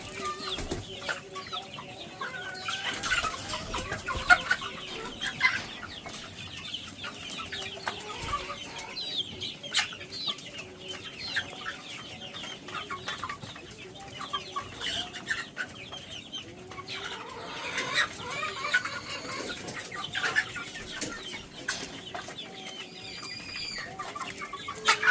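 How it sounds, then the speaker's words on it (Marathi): Chickens cluck and murmur continuously at close range, with occasional sharper squawks over a quiet farmyard background. "अशा ह्या कोंबड्या"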